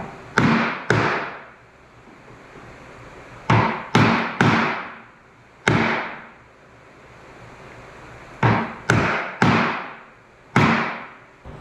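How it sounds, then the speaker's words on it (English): Sharp metal strikes on a saw in a workshop, loud and close, coming in irregular clusters of two or three blows separated by short ringing pauses. "You just hammering on the saw?"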